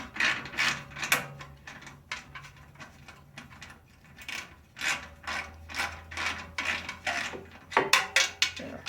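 A hand ratchet clicks in quick bursts while loosening a C-clamp on a muffler exhaust pipe, close and crisp, with short pauses between strokes.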